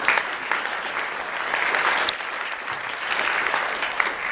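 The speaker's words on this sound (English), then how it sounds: "a round of applause, I think," Audience at an opening remarks event giving a round of applause, a continuous wash of many clapping hands, fairly even in volume throughout, with no one speaking over it.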